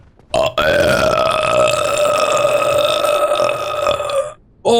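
A long, loud, resonant burp lasting several seconds, steady and droning with a slight pitch wobble, preceded by a brief short sound and ending abruptly, heard close with no talking over it.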